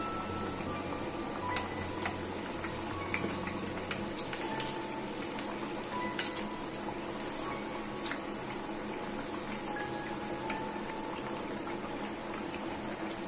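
Banana fritters (pazham pori) deep frying in oil, a continuous bubbling sizzle with scattered small pops and ticks, steady and fairly quiet throughout, with no voices.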